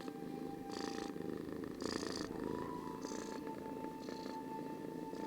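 Steady purring from a cat held close in a cuddle, a continuous rumbling drone broken by breathy rhythmic pulses about once a second, up close and alone.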